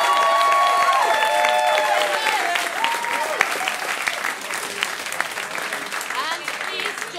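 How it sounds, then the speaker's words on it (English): Students at a Surrey Decides 2019 question time night applaud the election candidates in a loud, sustained burst that slowly eases, with voices and scattered cheers mixed into the clapping. "Can we give them another round of applause?"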